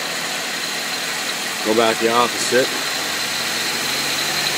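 Engine idling on a homemade fuel vaporizer, a steady, loud, even drone that runs throughout while someone speaks briefly over it.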